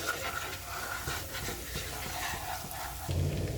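Masala frying in oil that has begun to separate, splashed with rinse water from a grinding stone that held ginger and cumin paste; a steady close sizzling hiss that surges louder right at the end.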